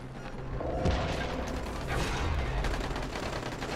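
Heavy, sustained gunfire with many bullets fired in rapid succession, a dense, loud, continuous barrage that carries on without a pause.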